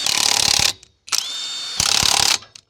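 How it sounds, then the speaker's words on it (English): A ratchet wrench torquing the lug nuts on a boat trailer wheel, two long bursts of fast clicking separated by a steadier whirring pass, then a brief trailing click, close and loud. "And torquing lug nuts."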